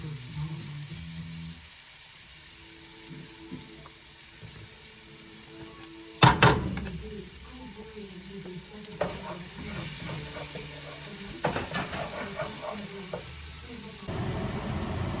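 Onions and garlic sauté in a hot pan, a steady low sizzle and frying hiss running throughout, with a few sharp clatters of a utensil stirring against the pan in the middle and near the end.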